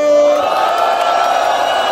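Live audience at a Brazilian freestyle MC rap battle roaring and cheering loudly to vote for an MC duo, a dense sustained crowd yell with whoops throughout.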